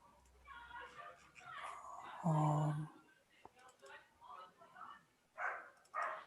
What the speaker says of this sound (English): my dog is barking as well